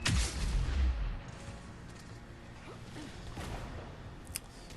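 Sharp gunshot bursts in a Mass Effect 3 firefight on Rannoch at a Reaper base, a loud crack at the start then quieter scattered shots and whooshes trailing through the combat.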